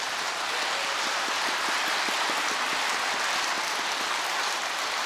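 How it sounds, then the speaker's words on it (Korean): Audience applause in a church hall at the close of an Advent lecture given by a priest, a dense steady wash of clapping that fills the whole stretch at even loudness with no voices over it. "박수 한번 해."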